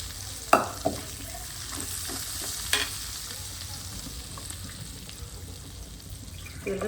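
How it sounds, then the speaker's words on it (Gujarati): Ragda pea curry simmers in a pan with a soft, steady bubbling, broken by a few sharp clinks and scrapes of a spoon stirring against the metal. "ચાલો હવે રગડો છે તે સરસ મજાનો ઉકળી રહ્યો છે."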